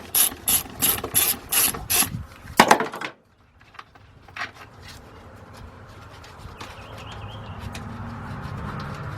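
A ratchet wrench clicks in quick repeated bursts loosening 10 mm bolts on a 2000 Nissan Maxima engine, followed by a sharp clank, then quieter tool handling and faint background noise.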